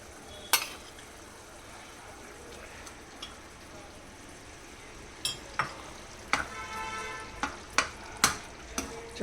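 Eggplant curry gravy cooks in a pot with a faint, low sizzle and bubbling, then a string of sharp spoon knocks and clinks against the pot in the later half.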